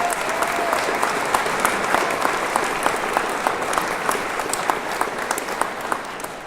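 Loud, sustained applause from a crowd at the outdoor Capitol Christmas tree lighting event, steady clapping throughout with no talking over it.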